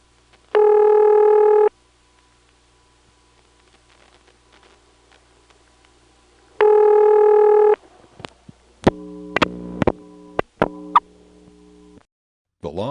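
A number rings through a Bell No. 355 step-by-step exchange over a long cable pair from Batesburg, South Carolina, in 1977. Two clear ringback tone bursts come several seconds apart, followed by scattered switching clicks and brief tones on the line.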